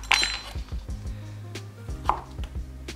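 Kiwi and pineapple being chopped on a cutting board, a quick series of close knife taps and thuds against the board, repeated at an even rhythm with a couple of brighter clicks, no talk.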